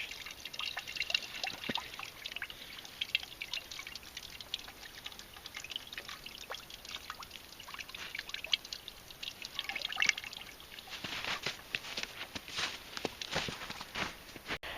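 A deer hide being wrung out during brain tanning, with water trickling and dripping off it in a continuous patter, bursts of pouring coming and going over nearly fifteen seconds.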